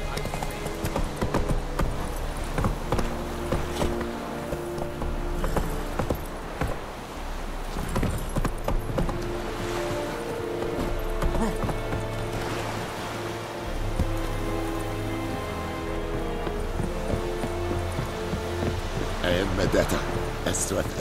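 Roach the horse gallops in The Witcher 3 with a steady, close clip-clop of hooves running throughout over a continuous musical score.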